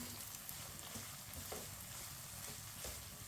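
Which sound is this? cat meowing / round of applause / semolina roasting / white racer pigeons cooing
semolina roasting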